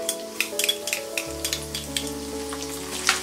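Urad dal and crushed garlic sizzle steadily in hot oil for an onion tomato chutney tempering, a close crackling hiss with scattered sharp pops over a low droning hum, no voices.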